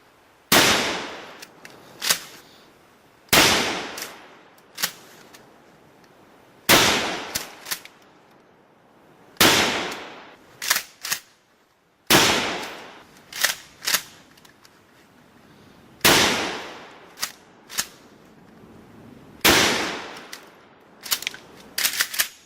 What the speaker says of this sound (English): 12 gauge shotgun, 7 slugs.